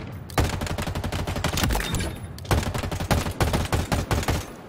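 Automatic assault rifle fire in Halo Infinite, loud sustained bursts of rapid shots, two long volleys separated by a brief pause, with no talking.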